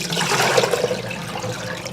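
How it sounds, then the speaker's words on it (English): Hot water gushes and splashes continuously as it is poured out into a sink, close and fairly loud, with no talking. "pour that water out first."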